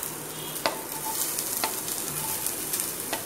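Chopped onion frying in hot oil in a pan, a steady close sizzle with a few sharp clinks of stirring scattered through.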